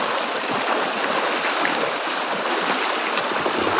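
A clear river flows loudly and steadily nearby as someone wades across it in a forested area of Nueva Vizcaya, a constant broadband rush with no voices.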